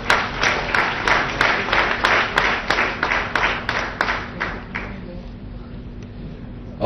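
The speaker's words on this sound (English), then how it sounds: "Please give them a huge round of applause." Audience applause for guests on a talk show, a steady run of loud rhythmic clapping that fades after about five seconds into quiet room tone.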